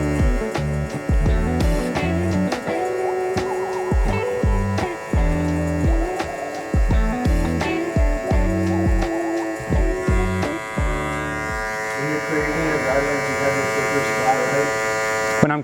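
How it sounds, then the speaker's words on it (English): Electric hair clippers buzz close up during a long-to-mid fade haircut, a steady hum that rises and falls in short strokes as they work through the hair. "Using mainly just the corner of the clipper, I'm gonna start attacking that."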